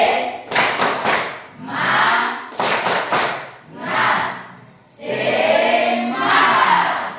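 A group claps in a patterned rhythm, bursts of quick claps alternating with pauses and shouted responses, loud and close.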